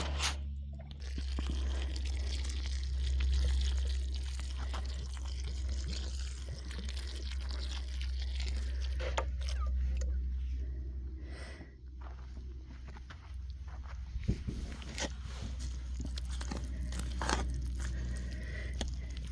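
Water pours into a gritty cement mix for stonework, with soft crunching, scraping and sloshing sounds up close and a low rumble underneath.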